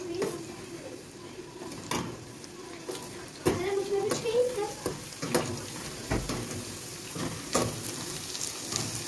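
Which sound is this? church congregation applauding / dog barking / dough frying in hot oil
dough frying in hot oil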